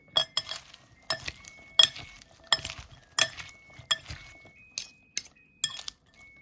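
Utensils clink and tap rhythmically against a bowl as prawn salad with tomato and avocado is tossed in dressing, a steady series of bright close knocks with short pauses between, no voices.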